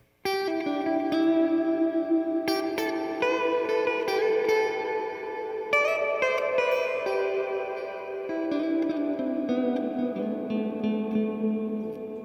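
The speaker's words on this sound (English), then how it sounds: "The Hall of Fame is a digital reverb, but it's a great reverb." A Boss SY-1 synthesizer played through a Hall of Fame digital reverb pedal sustains bright, layered tones with long shimmering tails, notes shifting and gliding downward, heard alone and fairly loud.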